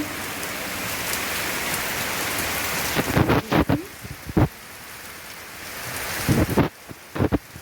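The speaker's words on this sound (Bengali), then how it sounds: "প্রচণ্ড বৃষ্টি" Heavy rain pours steadily outside a home, with deep rumbling thunder bursts breaking through around the middle and again near the end; no voices.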